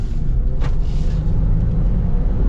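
A lifted Ford Transit van with a twin-turbo 3.5-liter V6 accelerates, its engine and road noise a steady, loud low rumble from inside the cabin, with a brief brighter swell early on.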